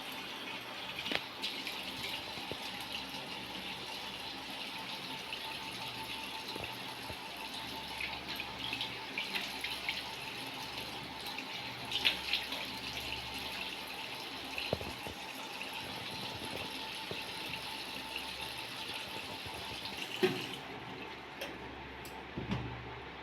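A bathroom tap runs continuously at low level while a face pack is washed off, a steady quiet stream of water with faint splashes and occasional small clicks, no talking.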